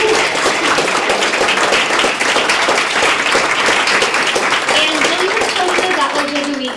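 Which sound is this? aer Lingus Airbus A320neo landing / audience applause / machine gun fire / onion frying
audience applause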